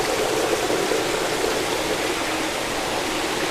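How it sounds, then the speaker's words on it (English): At a tropical fish farm after a winter storm, water overflows a clogged fish strainer in a steady, close, rushing splash like a small waterfall, continuous and alone. "is a strainer we use to stop little fish from going out, and they've clogged up and overflowed"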